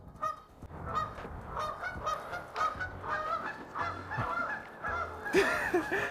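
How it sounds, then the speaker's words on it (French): A goose honks repeatedly, loud and close, in a run-down, nearly abandoned shopping center with crumbling stairs, its harsh calls coming in uneven bursts over a low background rumble. "Il y a littéralement une oie."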